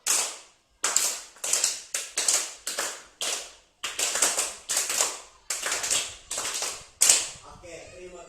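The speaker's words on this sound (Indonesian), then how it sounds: "Tepuk 1 sampai 5." Group of teachers at a school training session clapping in unison in a counted pattern, crisp sharp claps grouped in short bursts with brief pauses between sets, ending in a final clap and a faint voice.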